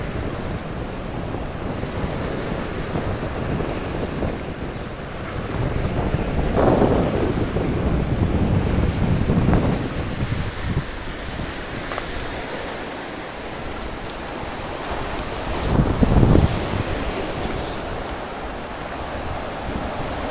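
Sea waves wash steadily onto a rocky shore at Long Hai, Vietnam, with a continuous roar of surf and wind buffeting the microphone. Louder breaking swells swell up every few seconds, and no one speaks.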